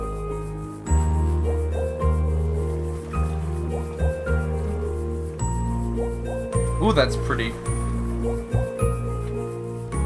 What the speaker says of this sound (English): Just the waves with the little bubbling.